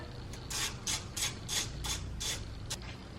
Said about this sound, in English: let's just go ahead and take out those 2 screws right there